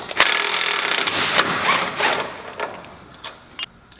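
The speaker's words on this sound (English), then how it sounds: "The next step is going to be to remove this factory sector shaft nut with a 1 5/16 socket." A 1 5/16 socket wrench working the factory steering sector shaft nut, a burst of rapid metallic ratcheting clicks and clanks up close, tapering into sparse taps, with no talk.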